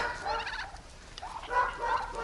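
Several mixed-breed turkeys of differing colours, kept on free-range pasture, gobble in quick, rattling bursts, one call early and another later, close by and without talk.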